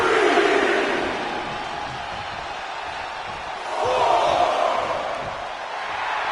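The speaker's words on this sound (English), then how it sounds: "Randy Orton feeding off this electric crowd." Arena crowd in the WWE 2K24 wrestling game, cheering and roaring steadily throughout, swelling louder near the middle, with a broad wash of voices and no commentary over it.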